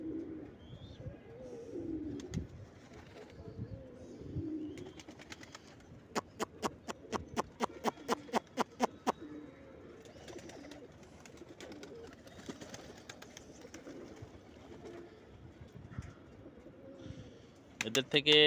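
Pet pigeons, including racers, coo softly around a grit feeder, with a quick burst of sharp clicks or wing claps in the middle and voices talking now and then.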